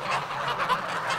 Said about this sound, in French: Ces oies, ce sont les futurs foie gras des prochaines fêtes de fin d'année.